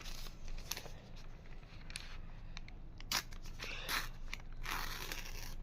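Material is cut along a ruler with scissors or a blade, giving a series of short, crisp crunching snips at irregular intervals, quiet and close, with no talk.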